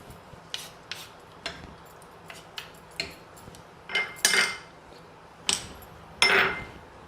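A spoon clinks and scrapes against a metal pressure cooker pot as rice and salt are stirred together, with about a dozen sharp knocks in an uneven rhythm, some louder than others and nearby, with no talking.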